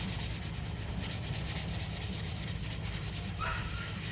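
Hand sanding of clone trooper armor, a continuous rhythmic rasping rub of sandpaper back and forth, close and steady, with a brief faint tonal squeak near the end.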